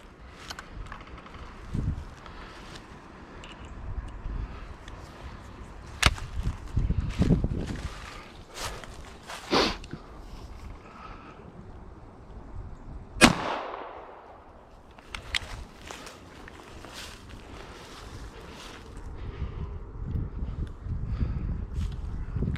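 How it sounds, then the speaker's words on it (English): A firearm fires several sharp, loud cracks spaced irregularly, one blast ringing with a long decaying echo, set among quieter handling clatter and low background rumble. "Let's fire another one."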